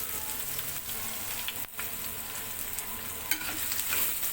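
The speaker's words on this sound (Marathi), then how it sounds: "आणि आता याला थोडंसं कलर चेंज होईपर्यंत भाजून घ्यायचं आहे" Finely chopped onion with cumin and curry leaves roasting in a hot pan for paneer bhurji, a continuous close sizzle with a few soft stirring scrapes and no voices.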